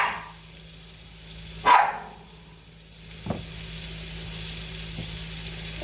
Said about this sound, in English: throw your strips of meat in there and shake it